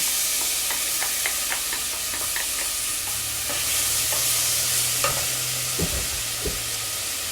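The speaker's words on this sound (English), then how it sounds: "I'm going to actually put this kimchi" Kimchi cooking in a pot for kimchi soup gives a steady close sizzle, with scattered utensil clicks and scrapes as it is stirred, and a low hum underneath; no one speaks.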